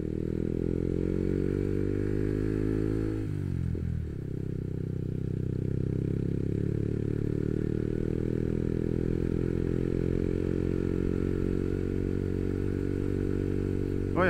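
A motorcycle rolls along a badly damaged gravel road, its engine droning loud and steady with a gear change or throttle dip partway through, while loose stones clatter and crunch under the tires.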